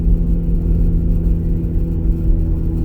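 A straight-piped Ford Fiesta ST cruises in third gear at about 30 on a freeway on-ramp, its exhaust giving a steady, loud, low drone heard from inside the cabin with no rise or fall.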